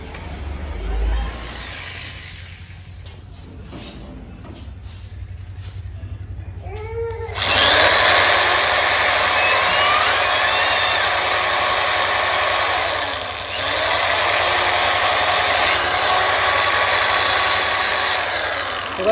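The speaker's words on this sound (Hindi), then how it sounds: "अब हम थोड़ा इसमें डिज़ाइन बना लेते हैं ड्रिल मशीन द्वारा" An electric drill machine carves decorative designs into a polished coconut shell bowl, whining steadily and loudly from about midway on after quieter handling sounds, with brief dips as the bit shifts around the shell.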